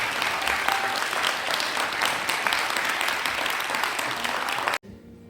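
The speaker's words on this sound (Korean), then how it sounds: "박수 한번 주시기 바랍니다." Congregation at a presbytery's regular assembly opening worship service in Seoul applauding, a full, dense burst of clapping from a large room that runs steadily and then cuts off abruptly near the end.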